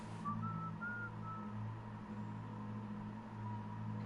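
Faint whistling from a Sherlock Holmes detective video game: a few short, soft whistled notes over a low steady hum in a quiet room.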